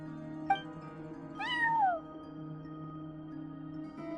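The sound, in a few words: cat meowing at front desk in video game Genshin Impact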